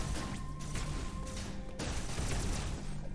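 A newly gained beam weapon fires rapid shots in the Metroid Dread video game, a dense, continuous barrage of blasts and impacts that stays loud throughout.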